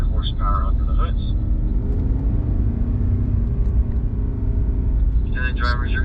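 BMW cars on a race track straightaway give a steady, loud engine rumble and road roar throughout, with a person speaking briefly over it at the start and end.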